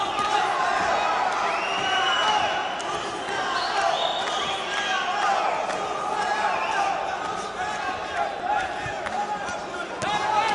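A boxing arena crowd on its feet roars and cheers steadily, with rising shouts and whoops and a sharp slam in a noisy, reverberant hall.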